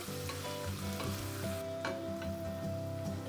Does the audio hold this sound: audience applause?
no